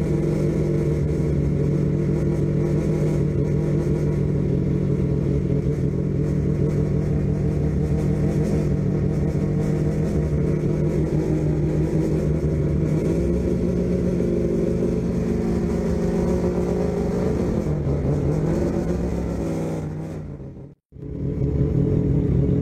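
A 4-rotor peripheral port turbo Mazda RX7 engine runs with a loud, steady rumbling idle and slight shifts in pitch, then cuts to near silence before resuming.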